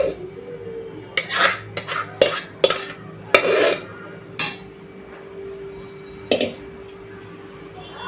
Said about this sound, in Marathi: आता आपण हे मिक्स करूया छानपैकी.